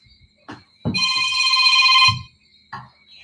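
A mobile phone rings loudly for about a second during a spoken talk. Speech comes just before and after the ring.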